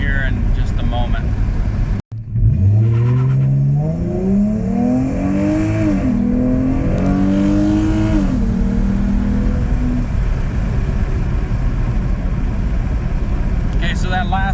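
Dodge Challenger with a Diablo Sport tune making a full-throttle pull with traction control on, engine roaring and climbing steadily through the revs with a brief shift while the rear wheels spin, loud and close, with speech briefly at the end.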